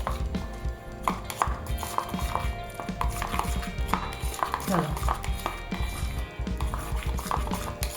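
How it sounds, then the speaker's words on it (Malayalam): A spoon stirs a cucumber juice face pack mixture in a small bowl, with repeated scraping swirls and light clinks against the sides in a steady, busy rhythm. "നമുക്ക് നല്ലപോലെ മിക്സ് ചെയ്യാം"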